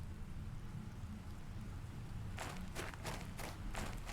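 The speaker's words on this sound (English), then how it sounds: "We're getting rain." Rain in the survival crafting game Planet Crafter falls over a steady low ambient hum, with soft pattering bursts that begin partway through and keep coming in irregular gusts, with no voices.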